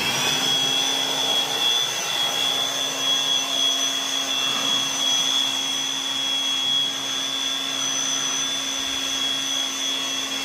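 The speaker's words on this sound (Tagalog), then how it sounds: "Tatanggalin muna po natin ang makapal na yelo na yan gamit ang ating blower" A steady, high-pitched whine of an electric blower roars continuously up close, its tone holding nearly constant throughout, as it clears thick ice from an air conditioner evaporator.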